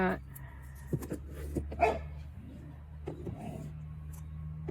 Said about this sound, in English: have puppies fighting in the background